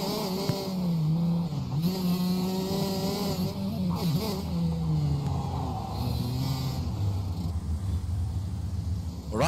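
Race car engines from a racing game at Killarney drone and rev continuously as cars weave to heat their tires, overlapping pitches rising and falling with occasional tire squeal, loud and close.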